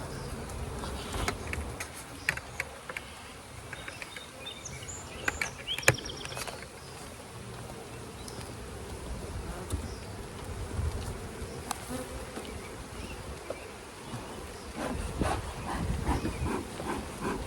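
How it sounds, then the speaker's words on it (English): Honey bees swarm and buzz around an open hive while honey supers are added, a steady insect drone with scattered nearer fly-bys and occasional soft thumps of handling, with no talking. "Amazing how well smoke does to keep the bees calmer."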